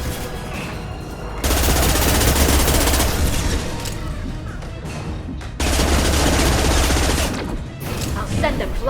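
Heavy sustained gunfire fills a firefight in the video game Mass Effect 2, with loud continuous bursts of shooting that surge twice and blend with battle noise.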